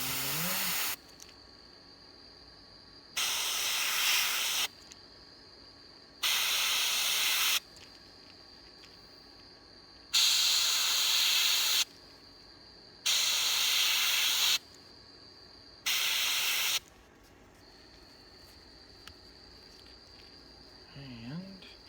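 An airbrush sprays paint onto a fishing lure in six distinct hissing bursts of one to two seconds each, close and loud, with quiet pauses between them.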